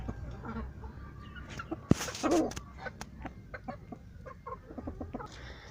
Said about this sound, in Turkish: tavuklarımızın birçoğu gezinme alanına çıktı